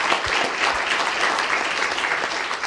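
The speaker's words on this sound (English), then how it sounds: "One more round of applause, please, for Bob, our wonderful speaker." Sustained applause from a seated campus lecture audience, dense steady clapping that fills the whole stretch at a fairly loud, even level with no voices over it.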